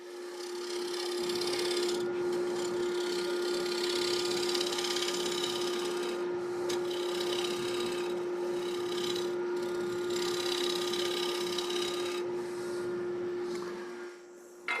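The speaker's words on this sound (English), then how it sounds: "I'm going to try to finesse my shape the way I want with this scraper." A scraper shaves wood turning on a lathe: a continuous close rasping scrape over the lathe's steady hum, with brief lighter passes, and no speech.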